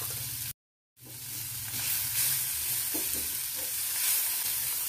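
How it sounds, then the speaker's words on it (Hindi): Boiled black chana with tomato, salt and masala sizzles in a pan while a spoon stirs it. Steady frying hiss with soft scraping stir strokes, close and continuous after a brief dropout near the start. "सभी को अच्छे से मिक्स कर लेंगे।"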